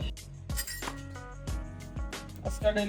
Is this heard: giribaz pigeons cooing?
no